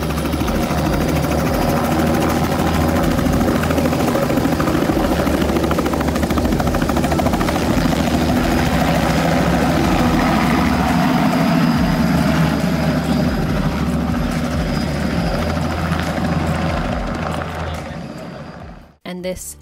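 A helicopter's rotors beat loudly and continuously with a heavy engine drone, close by at an airfield in Collingwood, Ontario, before the sound cuts off abruptly near the end.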